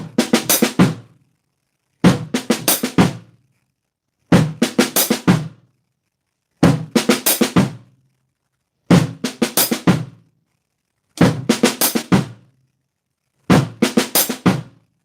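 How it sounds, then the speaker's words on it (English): A drum groove repeats seven times, each a quick burst of snare and cymbal hits including a fast left-hand double-stroke diddle on the snare, separated by short silences, close and loud with no talking. "instead of hitting it once, we're going to turn it into a diddle and hit it real quick"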